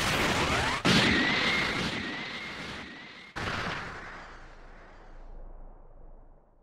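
A Special Beam Cannon blast in the video game Dragon Ball Sparking Zero: a loud explosive boom with a rising whine, a second sharp burst, then a long rumbling decay fading to quiet.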